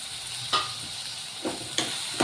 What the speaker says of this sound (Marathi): आता इथे मी एक टमाटर घेतलेला आहे कापून, हा यामध्ये टाकायचा आहे।